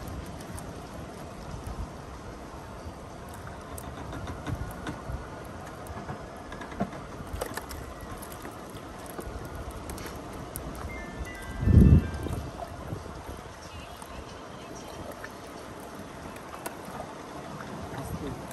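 A small boat, with water leaking in, moves slowly over forest water during a catfish-fishing trip. There is a steady wash of water and ambient noise, with one brief heavy thump near the end.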